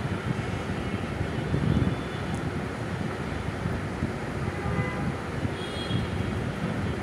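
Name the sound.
potato sticks frying in hot oil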